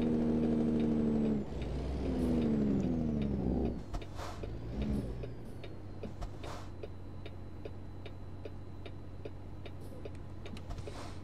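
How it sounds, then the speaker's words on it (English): In American Truck Simulator, a truck's parking air brake is set: a short burst of air hiss follows a low idling hum, then steady rhythmic clicking ticks continue at moderate loudness with no talking. "Go ahead and just set the parking brake,"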